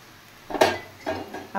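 Boiled peas are tipped into a pan for a papaya curry, with two short clattering knocks of a metal spoon against the pan separated by a brief pause in a quiet kitchen.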